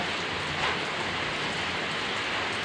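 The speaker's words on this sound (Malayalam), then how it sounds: "മഴ നല്ല മഴ ഒന്നുകൂടി വരുന്നുണ്ട്" Dense, steady hiss of heavy rainfall pouring down without pause, broad and enveloping, with no voices.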